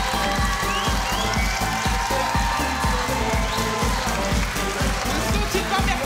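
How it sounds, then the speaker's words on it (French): A university evening show audience breaks into loud, dense applause that keeps going with a rhythmic clapping pulse, cheers mixed into the crowd noise. "faire un tonnerre d'applaudissements pour nos apprentis de ce soir"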